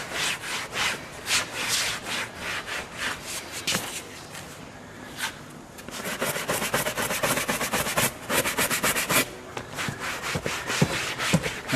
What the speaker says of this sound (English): Wipe the excess fluid off there with the damp cloth